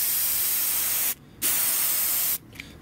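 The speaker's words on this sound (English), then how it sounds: "So next you just want to cover it, the whole thing, with the spray adhesive." Spray adhesive hisses from an aerosol can onto a Toyota Prius armrest during fabric reupholstery, two loud, close, steady bursts, the first about a second long and the second nearly a second, separated by a short pause.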